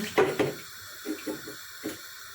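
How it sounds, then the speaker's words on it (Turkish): Water poured from a tap into a cooking pot of stew with tomato paste, a couple of short splashing gushes followed by softer intermittent trickles, close and brief with no talking. "Üstüne çıkana kadar suyunu ilave ettim."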